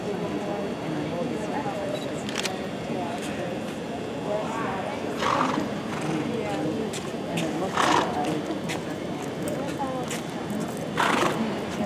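A horse cantering in a show arena, rhythmic hoof beats and a whinny under close, ongoing chatter from people nearby.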